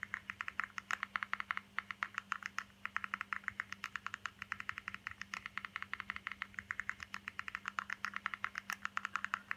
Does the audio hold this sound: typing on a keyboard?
yes